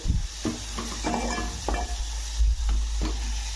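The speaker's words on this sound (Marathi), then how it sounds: "हा जो मसाला आहे ना थोडासा छान असा त्याचा कच्चेपणा जाऊ द्यायचा थोडासा भाजायचा तेलामध्ये" Masala spice paste frying in oil for bharli vangi, a close, fairly loud sizzle with a low rumbling hum beneath and several spatula scrapes against the pan at uneven intervals, no voices.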